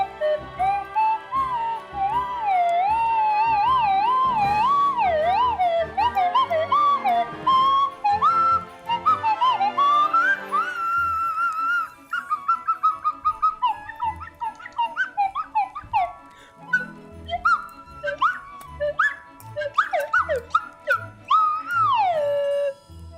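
Music from Kingdom Hearts II played on a slide whistle, a bright gliding melody with swooping pitch bends and short staccato notes, close and solo with no talking.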